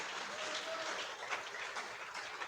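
A congregation claps together during a church service, an even wash of applause held at a fairly distant, modest level for the whole moment.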